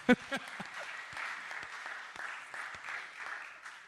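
Light, scattered applause from a small audience at a homebuilding industry panel, a thin patter of claps lasting a few seconds, with a couple of louder claps near the start.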